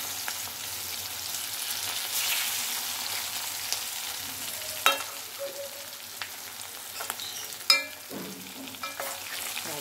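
Bitter gourd pieces fry in hot oil in a pan with a constant, close crackling sizzle, broken by a few sharp clicks and pops near the end.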